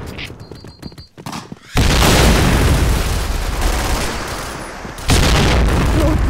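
A grenade goes off in the shooter Piercing Blow, a loud, sudden roar that cuts in after scattered shots and stays heavy, with a second blast surging near the end.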